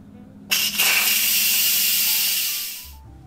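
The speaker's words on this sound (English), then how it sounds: "After 8 minutes, you wanna do a quick release." An Instant Pot vents its pressure in a quick release, a loud steady hiss of steam that bursts on suddenly and holds for about two and a half seconds before cutting off.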